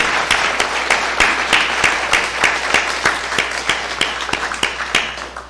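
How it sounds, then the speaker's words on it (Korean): A church congregation applauds a soldier home on his first leave at a Sunday service, fairly close, with sharp, distinct claps in a brisk rhythm that gradually softens. "박수하겠습니다."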